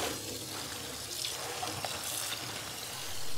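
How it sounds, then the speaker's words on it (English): Freshly harvested fall garden greens are swished around in a sink of water, making a steady, close sloshing and splashing that continues throughout with no talk. "we're just swishing them around in the water"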